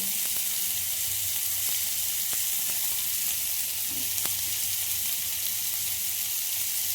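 Steady loud sizzling of radish and other vegetables frying in a pan, an even hiss throughout with a few faint clicks, no talk.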